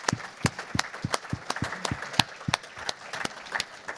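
Sparse applause at a mining industry awards event, with separate sharp claps in an uneven rhythm, fairly close and moderately loud over a soft room background.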